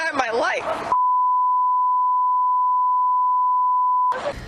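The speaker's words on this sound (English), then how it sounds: "I think that long beep was my favorite part." A long, steady censor bleep on a TV news broadcast holds loud and unbroken for about three seconds, with speech cut off just before it and resuming right after.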